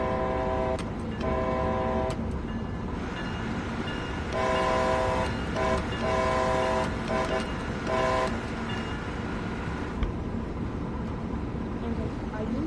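Train in Train Sim World 6 on the Boston–Providence line: steady rail rumble with several horn blasts in bursts, a voice talking over it.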